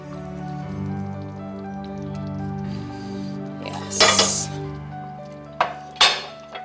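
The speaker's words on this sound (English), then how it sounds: "I'm just going to transfer the stock in here" Beef stock is poured into a pot. A steady liquid pour runs under a low background hum, then a few sharp clinks and scrapes of metal against the pot ring out near the end.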